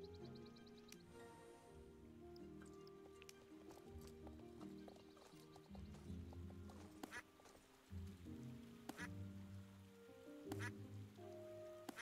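Ducks quacking in the horse-riding video game Star Stable, a few faint, scattered quacks heard over game ambience with clip-clopping hooves and soft background music.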